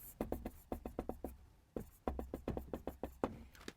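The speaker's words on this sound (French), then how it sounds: "Donc j'écris." Handwriting math with a pen during an integral lesson, a quick run of close, faint strokes and taps with short pauses between bursts, no voice.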